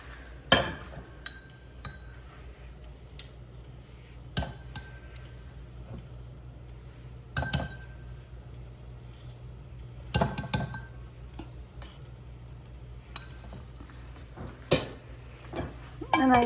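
Several sharp metallic clinks from a steel container as ghee is added while rotli is cooked in a home kitchen, scattered irregular knocks and taps over a low steady background hum, with a person talking in between.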